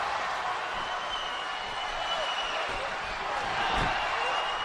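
Capacity crowd roaring steadily at a WWE RAW wrestling show in Chicago, a dense, continuous wash of cheering and noise that holds loud throughout with a brief swell near the end.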